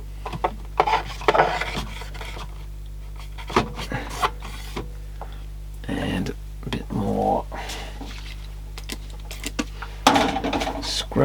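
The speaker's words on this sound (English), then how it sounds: "Rubbing near those meters," Cotton bud rubbing and scraping over dirty switches inside an Akai AT-2600 tuner, near the meters, giving close, intermittent raspy scrubbing bursts over a steady low hum, with quiet speech between strokes.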